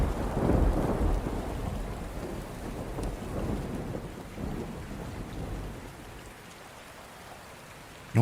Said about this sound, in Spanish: un trueno estalló sobre nosotros